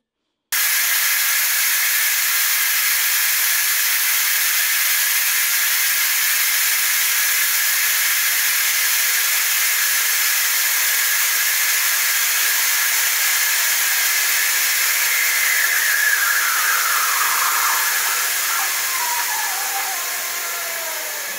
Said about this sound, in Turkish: tencerenin kulp kısmındaki buhar çıkış aparatına çok hafif, çok yavaş bastırarak buhar çıkışını sağlıyoruz